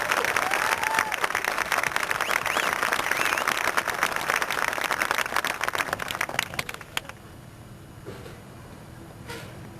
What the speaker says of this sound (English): Nice round of applause for JJ.